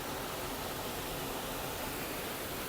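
Heavy rain pours down on a flooded road during a camping trip at Panjpeer Rocks, a dense, steady hiss that fills the whole moment without pause and with no voices over it.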